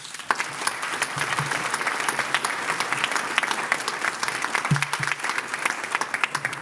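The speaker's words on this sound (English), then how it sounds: "Please give a round of applause for our exhibitors." Sustained round of applause from a seated audience at a professional association's business meeting in New Orleans, steady dense clapping throughout, fairly close and loud with no speech over it.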